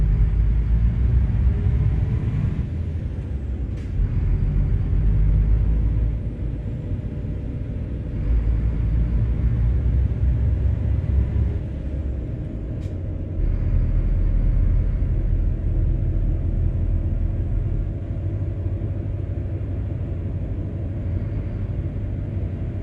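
A loud small truck in Euro Truck Simulator 2 accelerates through its first gears, its engine a steady heavy rumble with brief dips at each shift, running alone without talk.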